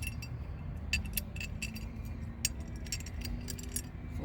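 Metal bolts clink and tap faintly as they are set into an engine intake manifold, with a scattering of small light metallic clicks over a quiet room hum.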